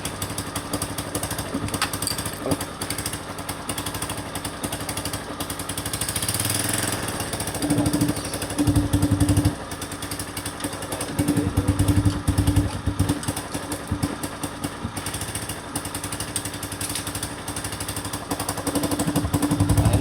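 A Suzuki Spin 125 scooter engine runs with its AIS (air injection) valve open, giving a steady, loud mechanical chatter and rattling drone close by, with throttle swells around the middle and later in the clip.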